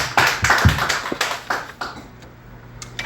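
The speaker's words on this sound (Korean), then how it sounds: "하나님께 영광의 박수 올리겠습니다." A church congregation gives a round of applause to God, a short burst of clapping that swells in the first second and tapers into scattered claps, with a low hum underneath and no talk.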